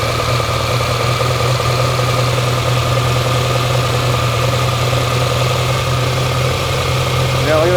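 A 1964 Ferrari 250 Lusso engine idles steadily on Weber carburetors as the mixture is leaned, a loud, close, even mechanical drone that holds constant throughout.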